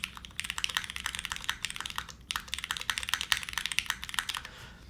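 Rapid typing on a custom-built mechanical keyboard, close up, with crisp clicky keystrokes in a steady flurry and a brief pause midway.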